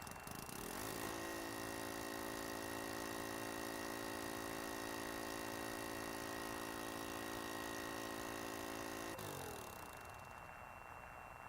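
A spacecraft engine running steadily in the video game Juno New Origins, a constant droning hum with a sustained tonal whine throughout, then fading down near the end.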